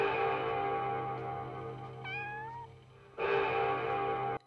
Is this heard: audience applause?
no